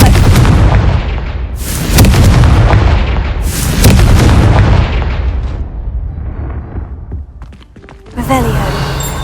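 A fire spell is cast repeatedly in Hogwarts Legacy, each cast landing as a loud, booming fiery blast with crackling bursts. Several heavy explosions come in quick succession, then a brighter chiming effect rings out near the end.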